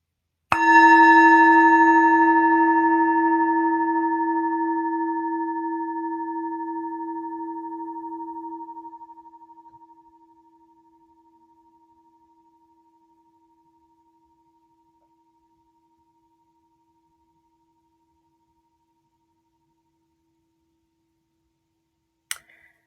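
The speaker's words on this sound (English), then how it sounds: "I'm just going to ring a bell" A single struck bell rings out clearly, its resonant tone sustaining and slowly fading away over about ten seconds into silence.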